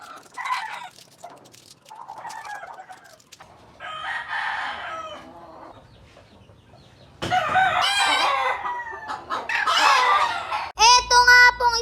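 On a small poultry farm, pullet chickens cluck in short bursts close by, and a rooster crows loudly toward the end.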